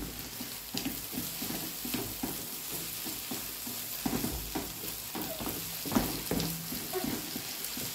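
Onions frying with spices in a pan, a steady crackling sizzle with repeated scraping and stirring strokes from a utensil, close and moderately quiet.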